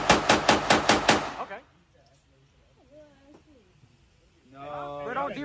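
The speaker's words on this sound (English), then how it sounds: "The P90 sound crazy." Rapid bursts from a P90 firing at an indoor shooting range, six quick loud cracks in a row, followed by quiet background murmur and voices near the end.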